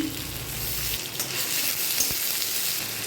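Onions, tomato and salt fry in a pan with a strong continuous sizzle, a brief low rumble at the start and a single soft knock near the end.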